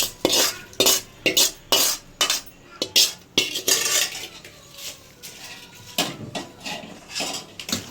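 Mango pickle is mixed with tempering in a metal vessel, a spoon scraping and clinking in quick, irregular strokes close up, with no voices.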